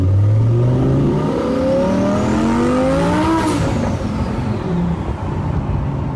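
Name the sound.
Lamborghini Huracan with twin turbo kit accelerating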